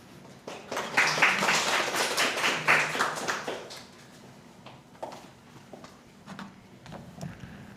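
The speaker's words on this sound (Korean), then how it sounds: "다시 한번 박수 부탁드리겠습니다" An audience at an internet governance conference applauds after a speaker finishes a fintech talk, with a burst of clapping that fades into scattered claps and room noise.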